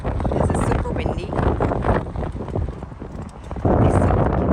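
Strong outdoor wind buffets the microphone in a Southampton port while boarding a P&O Ventura cruise ship, a loud continuous low rumble with gusts throughout.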